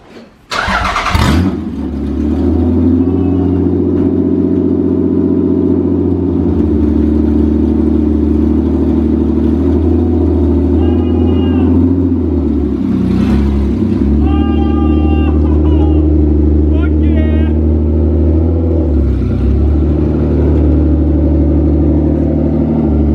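A V6-swapped Toyota MR2 engine starts with a sharp burst, then idles steadily and loud nearby, with a few light blips in its drone and faint background voices.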